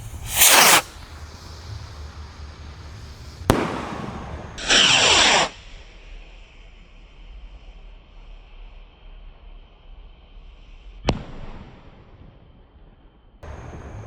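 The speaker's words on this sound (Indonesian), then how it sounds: "Roket siap meluncur." A firework rocket launches outdoors at night, with sharp hissing bursts and a rushing whoosh, then a faint fading trail of sound, followed by sudden loud cracks, with no voices.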